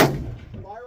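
A single sharp report from a 28 Nosler rifle bursts at the very start, loud and close, then decays into a short echoing tail.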